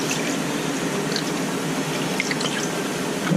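Water rinsing gold panning material after weeks of rain, a steady wash of trickling and dripping water with a few small splashes, close and constant, with no talk.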